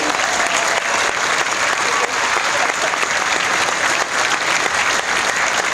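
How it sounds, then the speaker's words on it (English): A large outdoor crowd at the Goodwood Festival of Speed gives dense, sustained applause to welcome Max Verstappen, Sergio Perez and Daniel Ricciardo, loud and continuous from start to finish. "So let's get a massive welcome, a huge applause"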